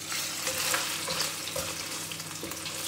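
Meat for fried rice fries lightly in a pan, a dense close hiss of sizzling oil running steadily throughout, with a few soft stirring knocks and no voices.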